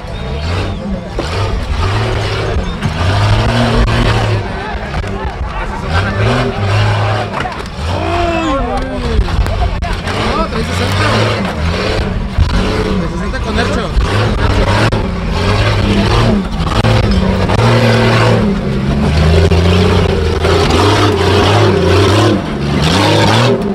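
A Jeep XJ off-road vehicle on big tires revs at a 4x4 competition on a Tijuana racetrack, loud engine surging and falling repeatedly close by, with people talking over it.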